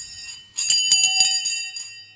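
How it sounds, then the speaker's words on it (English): A metal bell jangles and rings with bright overlapping tones as it is picked up and moved on a desk, a cluster of clangs fading out over about two seconds. "Let me move the bell."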